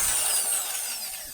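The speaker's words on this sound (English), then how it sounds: "I'm going to hit it with the impact gun to get that, to get the alternator nut off." Impact gun spinning off an alternator nut during an engine build, a brief loud high-pitched whirring burst up close, heard alone.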